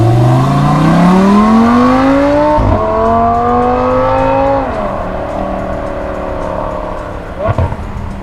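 A ten-cylinder car engine, a Viper among the gathered cars at Daikoku, revs up loudly close by, its pitch climbing, dropping between gear changes and climbing again before settling to a lower idle with a few blips at the end.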